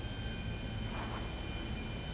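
A fixed-wing airplane in an action-film scene gives a continuous engine drone at moderate distance, with a slight swell midway and no voices.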